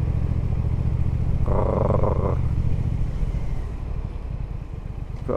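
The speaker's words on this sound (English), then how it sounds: "Oh, that sound is so nice when it's purring at low revs." A 2018 Triumph Thruxton R motorcycle engine purrs steadily at low revs on a London ride, a close, continuous rumble with a brief rise in the middle and a short spoken exclamation over it.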